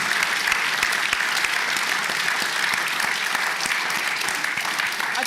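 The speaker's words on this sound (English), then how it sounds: "Should we give them a round of applause now?" Audience at a university lecture hall applauding after a lecture on the Gloucester, steady dense clapping with distinct individual claps, continuous and even for several seconds, with no voices on top.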